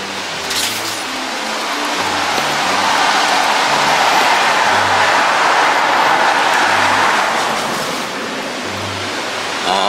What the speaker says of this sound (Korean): 댐에 물을 방류를 하는 것 같다.